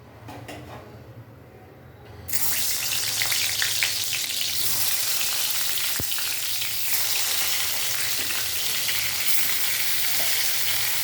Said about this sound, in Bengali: তেলটা গরম হয়ে গেছে, এবার এখানে আমি বেগুনটা হালকা হালকা করে ভেজে নেব।